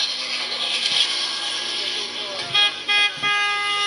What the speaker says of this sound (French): On klaxonne, d'accord, du soutien.